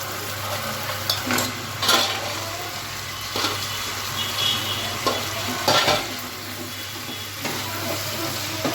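Cauliflower and potato fry in spiced oil in a pan, with a steady sizzle throughout and intermittent scraping stirs at irregular intervals, close and moderately loud, with no talking.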